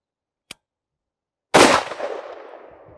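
Gunfire at an RTS AR600 Level III+ armor plate sounds as a faint sharp crack, then after a second a loud close gunshot with a long decaying echo outdoors.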